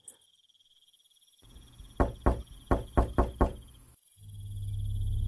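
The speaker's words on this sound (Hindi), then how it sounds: "फिर दरवाजे पर दस्तक हुई।" Six sharp, evenly spaced knocks on a wooden door ring out close and loud over a faint steady insect-like hum, followed by a low rumbling drone.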